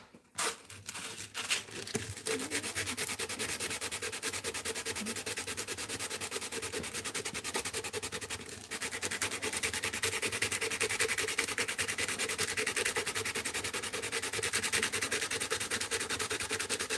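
Steel being hand-sanded with 120 grit abrasive in a workshop, a continuous close scratchy rubbing with rapid back-and-forth strokes, briefly pausing near the start and again around the middle.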